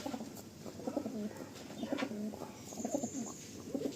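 Pigeons in a loft keep up a rhythmic, repeated low cooing, several phrases overlapping at close range, fairly quiet and unbroken by speech.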